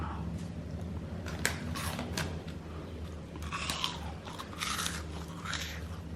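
Tomato-flavored corn puffs are munched up close, with a run of crisp, irregular crunches and bites over a low steady background hum.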